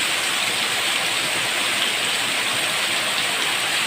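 Heavy rain pours down steadily in Thailand, a dense, constant hiss of falling water close by with no breaks and no voices.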